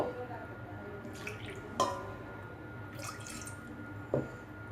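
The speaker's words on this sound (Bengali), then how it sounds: "দিয়ে দিচ্ছি 1 কাপ পানি।" One cup of water goes into a pan to make an agar jelly layer for milk pudding, heard as faint drips and a few splashy spatters over a quiet room tone.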